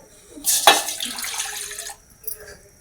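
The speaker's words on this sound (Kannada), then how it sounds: "ಈಗ ಈ ಗ್ಲಾಸ್ಲೆ ಎರಡು ಗ್ಲಾಸ್ ನೀರು ಹಾಕೊಂಡೇನಿ" Water is poured from a glass into a metal cooking pot on a gas stove, a splashing pour of about a second and a half, fairly close, followed by a brief softer splash.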